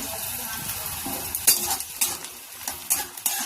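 Potatoes and pointed gourd fry in a pan with a steady sizzle, while a utensil stirs them and scrapes and clinks against the metal at irregular intervals, close by.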